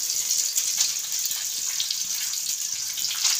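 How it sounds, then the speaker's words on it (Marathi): Cooking oil poured into a frying pan before making a chicken dish, a steady close trickling hiss with faint bubbling, running unbroken and alone. "तर चला आता आपण तेल टाकूया भोगण्यामध्ये"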